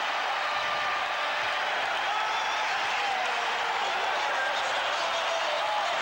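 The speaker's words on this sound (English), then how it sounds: "They are standing and cheering the Bulls" A crowd at the 1991 NBA Finals Game 1 between the Bulls and Lakers roars and cheers for the Bulls in a dense, unbroken wall of sound.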